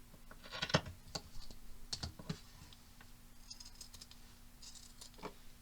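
Scissors cut fabric to size for a journal pocket, making a handful of quiet, irregular snips and clicks with no talking.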